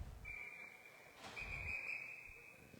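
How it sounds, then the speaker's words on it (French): A referee's whistle at a hockey game between Mathieu Martin and Riverview sounds two sharp shrill blasts, one short and one longer, heard from a distance over the low rumble of the rink crowd. "là, on a un sifflet ici"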